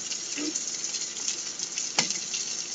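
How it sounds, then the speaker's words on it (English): Peppers and onions sizzle steadily in a hot pan, a close, even frying hiss with a single sharper knock of a spoon or spatula partway through and no talking. "you just keep stirring those peppers and onions until the onions start to look clear"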